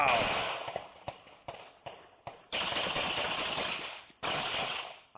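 Rapid gunfire in news footage near a Milwaukee park: a series of sharp bursts and shots cutting in and out, some spaced apart and others running together, over a rough, noisy background.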